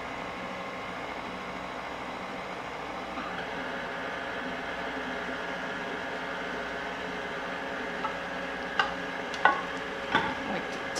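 An electric mixer beating cupcake batter of flour and milk, a steady whirring drone running throughout at moderate level, with a few sharp clatters of the beaters against the bowl near the end.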